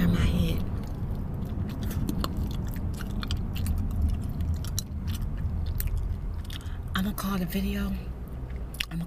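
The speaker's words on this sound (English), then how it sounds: "when I'm not talking and just chewing gum" Gum chewing close to the microphone, with moist smacking and clicking bites continuing steadily under soft, intimate talking throughout.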